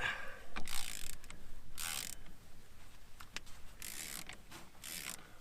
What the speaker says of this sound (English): I need to take this nut off